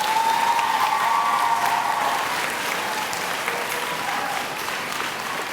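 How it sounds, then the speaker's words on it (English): A crowd at an elementary school applauds the teachers, a broad steady roar of clapping that starts full and eases slightly toward the end, with no voices on top. "Y'all need to give the teachers a round of applause."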